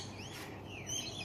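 Small birds chirping near a deck, several faint high chirps and short sweeping tweets over a quiet low background hum.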